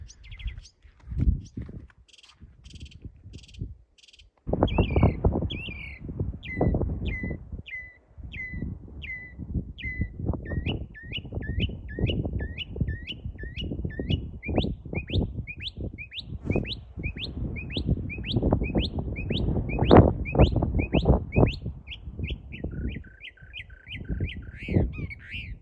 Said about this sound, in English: That bird is very vocal.